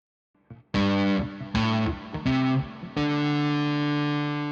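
Electric guitar through an effects unit with distortion and chorus plays four sustained notes in the low first octave, each attack clear and ringing, the last note held long and loud with no voices.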